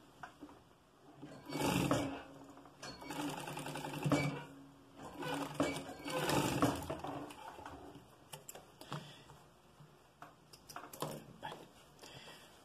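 Sewing machine stitching a simple fabric facing, in several bursts of rapid mechanical whirring separated by short pauses, fairly close and moderately loud.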